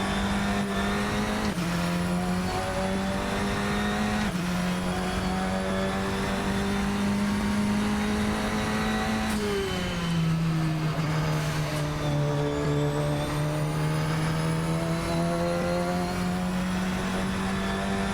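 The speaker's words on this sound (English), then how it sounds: "Car sounds wonderful." A Radical SR10 XXR8 race car engine in the video game Assetto Corsa drones at a steady high pitch, dipping briefly as gears shift, then climbing again in a continuous, close roar.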